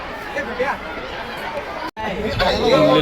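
Busy crowd chatter at the entrance of Wet N Joy water park, a continuous murmur of many voices with a momentary dropout before the babble swells louder and closer.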